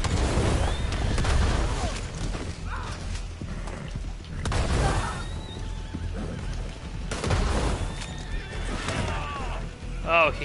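A horse in the Red Dead Online video game neighs and whinnies amid clopping hooves, with game ambience and someone talking over it throughout.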